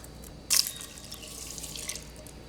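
Evaporated milk pours into a pot of Trinidadian sawine, starting with a sharp splash and then settling into a soft, steady trickle of liquid close by.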